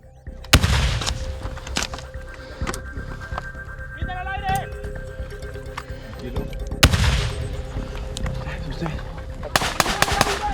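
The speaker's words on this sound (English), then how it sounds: "They have to learn to launch weapons like these 40mm grenades to blow up rooms." 40mm grenade launcher fire during military training, with a few sharp, heavy booms spaced seconds apart and ringing outdoors, along with distant shouts and voices between shots.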